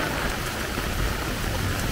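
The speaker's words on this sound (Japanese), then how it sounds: "雨の音がすごくてさ、" Heavy rain pouring down at an outdoor football stadium in Komaba during a thunderstorm, a dense, constant roar of downpour filling the whole stretch, loud and close with no voices rising above it.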